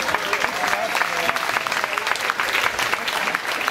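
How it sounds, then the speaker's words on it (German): Audience at a Kerwe village fair speech in Dilje clapping and drumming on tables, a loud, dense burst of applause with voices mixed in throughout. "Wenn es euch gefallen hat, dürft ihr gerne rummeln klatschen."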